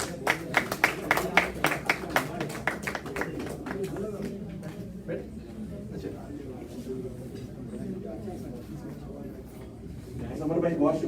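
Audience applause at a Pakistan Day celebration in Chicago welcomes a speaker. A lively burst of clapping fills the first few seconds, then fades as voices and talk take over.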